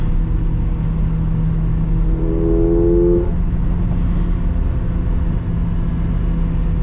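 A Mercedes CLA 45 AMG four-cylinder engine and exhaust drone loudly and steadily from inside the cabin, with a brief rising rev partway through over constant road rumble.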